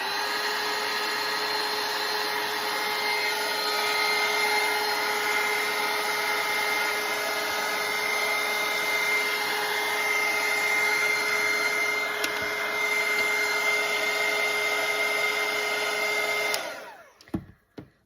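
Steady, close roar of a hair dryer drying a watercolor painting, running unbroken for about sixteen seconds before switching off with a few small knocks as it is set down.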